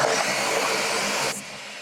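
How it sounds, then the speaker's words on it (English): A blender whirs steadily as it blends garlic for a jollof rice sauce. The loud, continuous motor drone runs alone and then drops abruptly to a lower hum near the end. "now we're going to blend this up"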